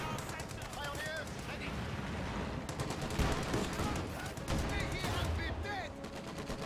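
Machine gun fire from a Company of Heroes 2 real-time strategy battle, with dense rattling bursts mixed among other battle effects, playing steadily throughout under a voice.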